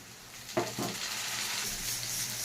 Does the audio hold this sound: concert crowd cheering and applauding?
no